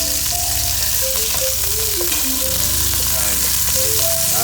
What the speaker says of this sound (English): Getting a little sizzly here